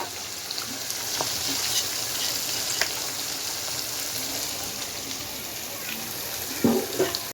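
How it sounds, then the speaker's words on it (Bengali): Meat fries in a pan for a home-cooked family meal, giving a steady loud sizzle throughout with occasional scrapes and clatters near the end. "মোটামুটি মাংসটা ফ্রাই হয়ে গেছে"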